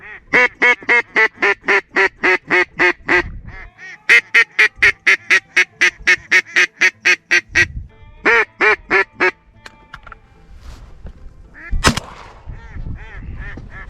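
Ducks quacking loudly in rapid repeated series during a duck hunt, pausing between runs, with a sharp bang and some rustling near the end.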